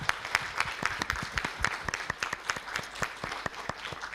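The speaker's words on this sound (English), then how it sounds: "please give big claps to all the people on stage and all those who were here before" An audience at a university research-presentation competition final claps in a dense, steady burst of applause, sharp individual claps standing out throughout without any talking.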